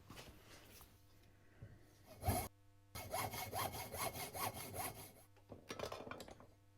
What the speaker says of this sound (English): I reverse the barrels in the vise to cut the opposite side.